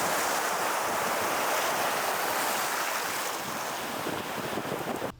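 Ocean surf washes in as a steady, broad roar of breaking waves mixed with wind buffeting the microphone, loud and unbroken, with no voices.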